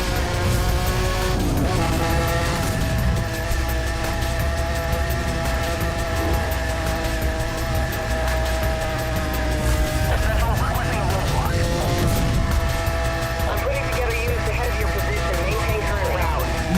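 Cars racing in the Need for Speed Hot Pursuit video game, with loud sustained engine roar, shifting revs and tire squeals, constant and close throughout, while a voice talks over it.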